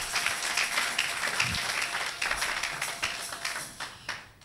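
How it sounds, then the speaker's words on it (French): A church congregation breaks into sustained applause during a worship service, a dense, steady wash of many hands clapping close by, with scattered sharper claps near the end. "Acclamons pour la gloire de notre Dieu."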